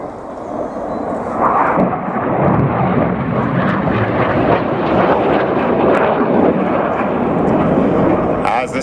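Red Arrows jet aircraft climbing away into a display manoeuvre, a loud, sustained, roaring jet rush with wind buffeting the microphone, while a voice talks over it.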